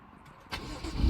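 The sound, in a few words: 2017 BMW M2 engine starting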